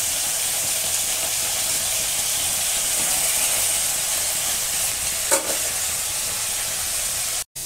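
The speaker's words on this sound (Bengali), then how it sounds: "একটু সময় লাগবে ভাজতে, এগুলোকে একটু ভালো করে ভেজে" Cauliflower and soybean chunks frying in hot oil give a steady, dense sizzle with stirring, continuous and close for several seconds, with a brief scrape near the end and no voices.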